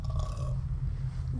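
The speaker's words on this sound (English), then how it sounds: "just burping as I talk" A single low, guttural burp rumbles out close to the mic and lasts about a second and a half, heard alone with no talk over it.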